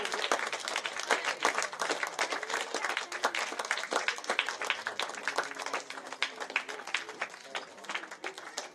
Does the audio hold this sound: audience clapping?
yes